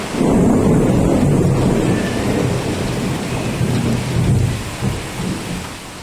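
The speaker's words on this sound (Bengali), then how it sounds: "এই যে এখানে বসে বসে বৃষ্টি দেখছে, তাই তো মা? বাবা মেঘও চমকাচ্ছে, বিদ্যুৎ চমকাচ্ছে।" A loud thunderstorm with heavy rain, a deep rolling thunder rumble over dense, steady rainfall that eases slightly toward the end, no voices.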